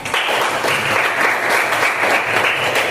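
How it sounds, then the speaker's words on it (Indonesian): A classroom audience claps for the second presenting group, a steady patter of many hands that continues throughout without a break. "kita kasih aplaus untuk kelompok kedua"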